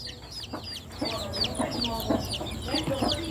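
Newborn chicks in a brooder warmed by a 50-watt bulb chirp constantly, with many overlapping high, rising peeps in quick, irregular succession, fairly close and moderately loud over a low background murmur.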